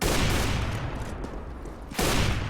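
Rapid bursts of gunfire from a Counter-Strike: Global Offensive match, a dense rattling volley that eases off briefly and then resumes loudly, with no talk over it.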